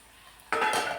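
Wild taroda greens with spices are stirred in a pan, starting quiet and then breaking into a loud, close scraping and sizzling rustle that carries on to the end.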